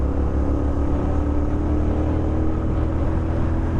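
Trucks roll on both sides of a potholed stretch of the Pantura road near Karawang, heard from a Royal Enfield motorcycle as a loud, continuous low engine and road roar.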